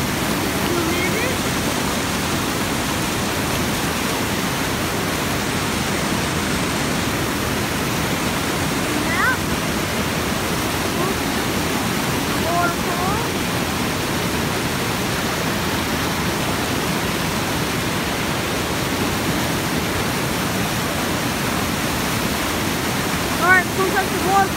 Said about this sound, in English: Alright, folks, that's the waterfall